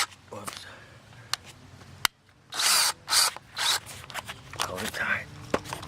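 Power drill driving a screw into a fence board set on a concrete-footed post, several short close whirring bursts with sharp clicks and handling noise around them.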